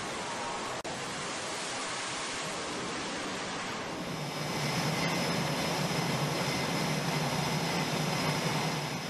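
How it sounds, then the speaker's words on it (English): The twin jet engines of an F-15 roar on an aircraft carrier flight deck, a steady, dense, close blast that swells louder and fuller about halfway through and keeps going without any voices. "Flight deck crews will raise a protective shield to help absorb the blast from the aircraft's twin engines."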